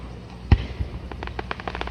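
Fireworks go off outdoors: one sharp loud bang followed by a scatter of smaller crackling pops over a steady rumbling background.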